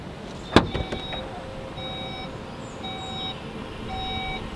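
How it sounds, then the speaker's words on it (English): A 2019 Skoda Kodiaq vRS's powered tailgate hums and whirs as it opens and closes, with a sharp click and latch sound near the start and repeated electronic beeps. "you can open and close the power tailgate with the key"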